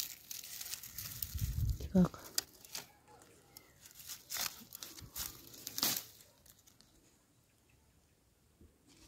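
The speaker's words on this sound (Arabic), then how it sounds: "غنقلعوا بصله طيارت الراس ديالها حتى هي" Onions being pulled out of home garden soil, with crinkling leaf rustle and soft tearing of roots in a few close bursts, someone speaking over the sounds.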